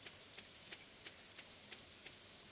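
Steady rain falls in the Stardew Valley game, a faint, even hiss with soft periodic droplet taps recurring about every third of a second, no voices present.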